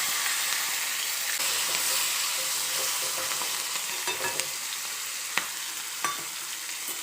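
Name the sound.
washed cut chilies frying in oil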